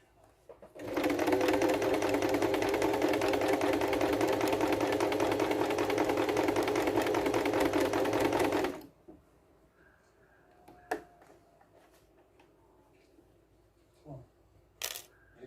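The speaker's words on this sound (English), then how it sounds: "So I'm sewing on the binding with 1/4 of an inch seam allowance from the edge." Sewing machine stitching binding onto a quilt with a quarter-inch seam allowance, a loud, even, rapid mechanical whirr lasting about eight seconds, then it stops, leaving faint clicks and handling taps.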